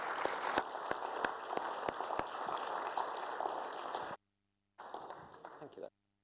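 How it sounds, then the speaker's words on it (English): A lecture audience gives Professor Otten a warm round of applause at a UK soil science event, with dense clapping and a few sharp individual claps, then a sudden cut and a shorter burst of clapping. "one last round of applause for Professor Otten"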